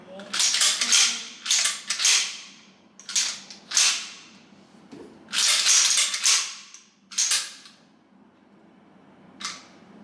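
Sharp mechanical clacks and metallic racking from a Derya MK12 semi-auto shotgun with a 14-inch barrel being safety-checked, several loud close bursts spaced irregularly with brief pauses between.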